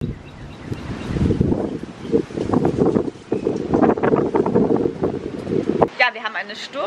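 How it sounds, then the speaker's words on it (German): Wind gusting outdoors as a storm builds ahead of a tornado warning, a steady rushing buffet on the microphone lasting several seconds before it drops away into quieter air. "Ich zeige euch mal, wie es so ein bisschen weht."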